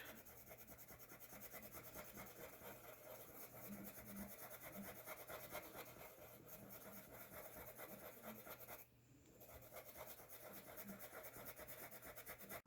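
A colored pencil is burnished hard on paper, a close, steady scratchy rubbing that continues without a break and pauses briefly once. No one speaks.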